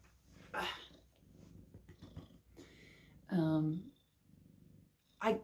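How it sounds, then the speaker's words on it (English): A cat sitting on the floor purrs softly in a low, steady rumble, with a person's voice talking between quieter stretches. "Do you want to come up here instead of just sitting on the floor and staring at me and purring?"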